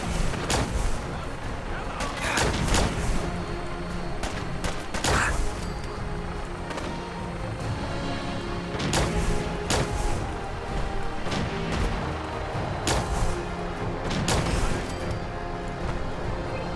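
An enemy fires at the player in Fallout 4, producing sharp gunshots in irregular bursts, some in quick pairs and clusters, over a steady background of game noise.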